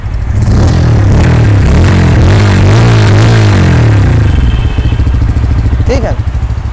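A Bajaj Pulsar N150 motorcycle engine idles close by with a deep, steady thrum and a few short revs climbing and settling. A brief voice breaks in near the end.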